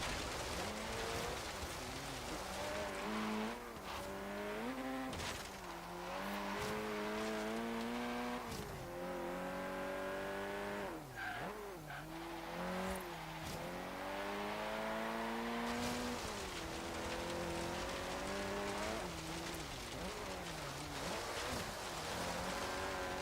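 A race car on a timed lap, its engine loud and close throughout with repeated rising and falling revs as it shifts gears and brakes for corners, with no talking.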